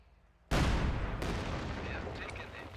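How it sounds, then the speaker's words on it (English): Su-85 tank destroyer firing in Company of Heroes 2: a sudden loud cannon blast with a long rumbling decay, followed by a second fainter shot and distant battle noise. "the Su-85s can just simply roll forward and start shooting at the base"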